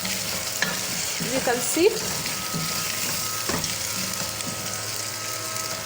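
Onions fry in a pan for pilau with a steady, close hiss, and a few brief stirring scrapes break through near the middle. A voice speaks briefly over the sizzle.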